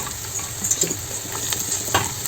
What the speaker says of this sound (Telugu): ముందుగా ఉల్లిగడ్డను ఆయిల్లో వేసుకోవాలి మీడియంగా కట్ చేసుకున్న ఉల్లిగడ్డ